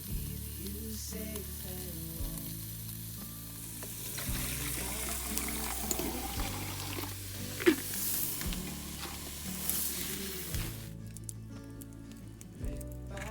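Food sizzles steadily in a frying pan over a small wood fireplace, a continuous crackling hiss with faint clinks and scrapes, and the sound drops away near the end.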